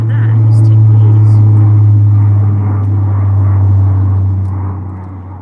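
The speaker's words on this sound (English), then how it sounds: "Don't worry, we have a lot of air traffic here." A fixed-wing propeller aircraft drones overhead in a steady, loud low rumble that swells and fades slightly over several seconds, heard outdoors during besom broom making, with voices murmuring faintly underneath.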